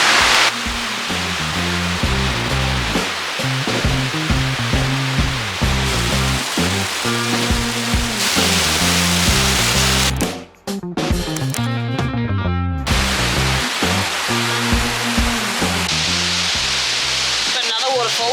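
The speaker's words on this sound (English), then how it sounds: "Oh, you can probably hear it. It's roaring." A waterfall in rainy, green Scottish countryside roars with a dense, loud, unbroken rush of water that fills the whole stretch, briefly dipping for a moment midway before resuming.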